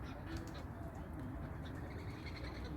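Pigeons cooing on the ground where a large flock has landed and scattered across the land, soft low calls repeating steadily and fairly close throughout.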